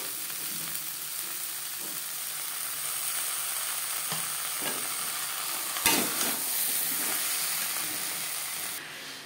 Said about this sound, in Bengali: চাল আর ডাল বেশ ভালো করে মিক্সড করে দেব।